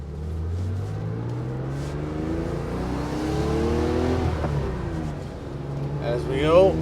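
A 1970 Porsche 911E Targa with a dog-leg gearbox accelerates hard in first gear, heard from the passenger seat as a rising, throaty engine note builds steadily, with a voice cutting in near the end.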